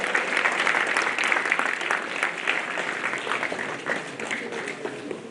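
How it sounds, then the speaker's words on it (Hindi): Audience in an auditorium applauding a welcome at a statue inauguration, dense sustained clapping from many hands, fairly close and even, fading slightly toward the end. "जोरदार तालियों से स्वागत करें सभी का।"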